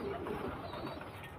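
A male pigeon at a home loft gives a soft, low cooing call, near and quiet, lasting only a moment with no talk over it.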